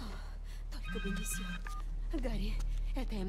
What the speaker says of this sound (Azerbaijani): Telefon. Götür görüm.